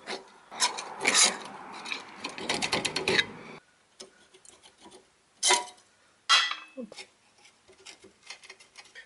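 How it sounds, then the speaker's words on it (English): Metal scraping and rasping as brake pads are pried out of a car's brake caliper with a tool, in a few short, uneven bursts at close range with quieter gaps between. "Now I should be able to pry these pads out of here."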